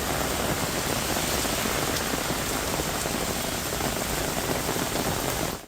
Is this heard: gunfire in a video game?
no